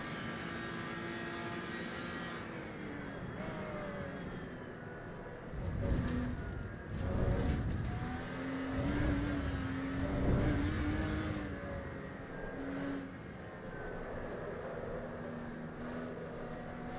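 Racing-game car engine revving and droning steadily, with pitch sweeps rising and falling as the car accelerates and shifts, louder surges midway, no talk over it.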